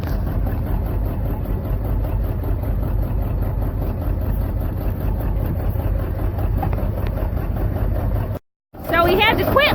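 A John Deere 730 diesel tractor runs close by, with a loud, steady, low rumbling throb that cuts out briefly near the end before resuming.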